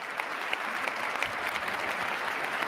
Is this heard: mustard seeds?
no